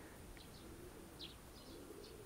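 Racing pigeons returning from a 500 km race out of Oranienburg, Germany, give several brief soft calls and coos at a loft amid steady background noise, fairly faint and spaced across the moment.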